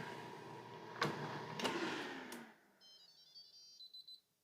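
After some clattering and rustling, a faint electronic beep pattern sounds repeatedly, a short series of high tones from an Instant Pot air fryer lid signalling the lid is off.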